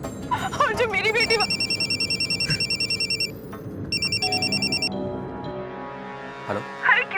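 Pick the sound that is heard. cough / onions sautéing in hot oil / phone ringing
phone ringing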